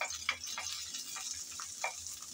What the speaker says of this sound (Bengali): গরম তেলে আমি রসুন কুচি দিয়ে দিলাম। রসুন কুচি হালকা করে ভেজে নেব।